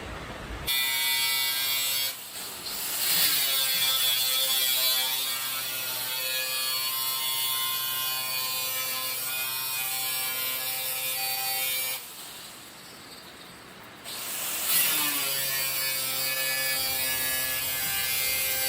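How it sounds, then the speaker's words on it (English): An angle grinder works on metal during a storage box build, its harsh, loud whine holding steady over several seconds, dropping out briefly twice before picking up again. "Now it just takes a little time to go over it with the grinder."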